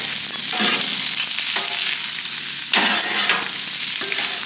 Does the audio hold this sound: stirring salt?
yes